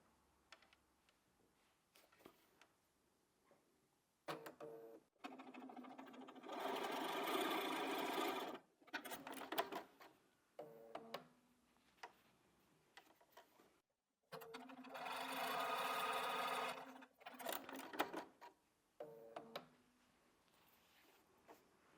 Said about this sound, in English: go over to the machine now, and I'm going to put these together to show you how that block goes together